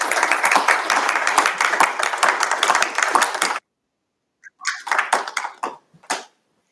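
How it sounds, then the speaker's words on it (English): An audience applauding candidates at a city council candidate forum, a full burst of many hands clapping that stops suddenly, then a second, thinner and sparser round of claps trailing off. "please, a round of applause for our candidates tonight"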